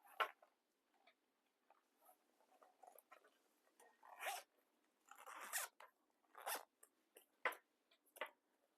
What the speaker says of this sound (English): pull my zipper out